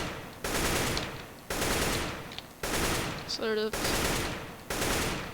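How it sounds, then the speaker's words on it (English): Tap shooting a rifle in CS:GO: short repeated bursts of loud gunfire in a steady rhythm, each cluster of shots separated by brief pauses, with a short spoken remark slipped between bursts. "Tap shooting is just like, it's where you just tap it every once in a while, let the recoil go down."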